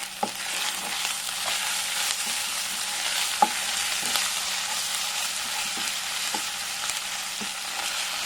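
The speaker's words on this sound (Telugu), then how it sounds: "అల్లం వెల్లుల్లి పేస్ట్ కొంచెం పచ్చివాసన పోయేంత వరకు వేయించుకున్నాం కదా." Ginger garlic paste frying with salt in a pan for a mint pulao: a steady broadband sizzle with occasional stirring knocks and scrapes, close and alone with no talking.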